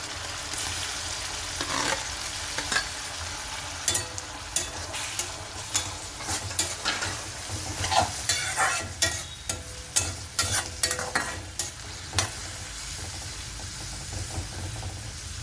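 Chopped onions and finely cut tomato pieces fry in a pan for panipuri hot chaat, a steady sizzle broken by repeated scraping stirs that come in clusters, loudest toward the middle and end; no voices.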